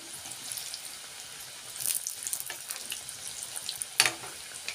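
Potato bondas frying in hot oil: a soft, continuous sizzle and bubbling with scattered crackles and a sharper spatter near the end, close up and without talk.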